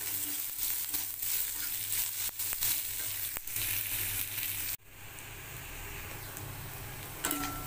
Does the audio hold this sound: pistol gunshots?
no